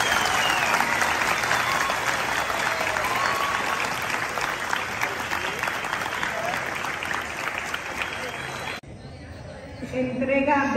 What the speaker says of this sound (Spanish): Agradecemos a los presentes un caluroso aplauso a todos los